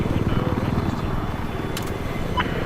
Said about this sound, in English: Enemy chopper spotted.